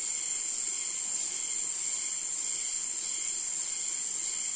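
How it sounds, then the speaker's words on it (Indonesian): Constant high-pitched cricket chirring fills a forest near Baubau, Southeast Sulawesi, steady and unbroken, with a faint background hiss and no voices. "Kan banyak kan bunyi jangkrik aja yang saya dengar ya."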